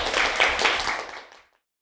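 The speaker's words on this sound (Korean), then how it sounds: "박수로 환영해 주십시오" A lecture audience claps in welcome for a professor about to speak at a public-interest talk on unmarried mothers' rights, a dense burst of applause lasting about a second and a half before fading out quickly.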